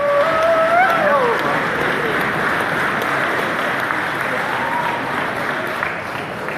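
A large audience at Politicon 2017 applauds and cheers, a dense, steady roar of clapping with a few whoops rising over it early, sustained and fading slightly toward the end.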